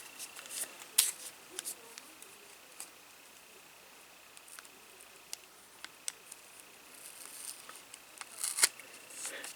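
Small scissors snip along the edge of a miniature dollhouse 3-ring binder made of card and tape, giving scattered, crisp close-up cuts separated by quiet pauses.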